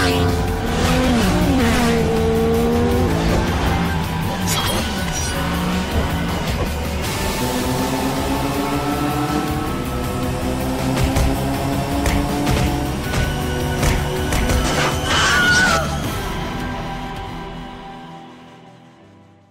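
A motorcycle engine roars loud and close through the whole ride, revving up and down with rising and falling pitch sweeps before fading out at the end.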